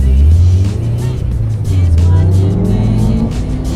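A car engine roars up close as it accelerates, its low hum rising and falling over a few seconds with road noise underneath.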